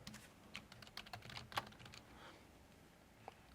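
Someone typing text on a computer keyboard, faint scattered keystrokes in short irregular bursts with a couple of isolated taps near the end.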